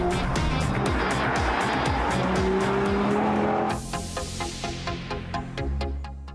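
Audi TT RS with its five-cylinder engine and twin oval exhaust tailpipes, loud and close as it revs hard, then the tone shifts and drops away into a quieter, rougher burble near the end.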